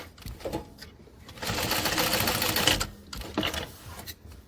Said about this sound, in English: let's go ahead and sew down this side right here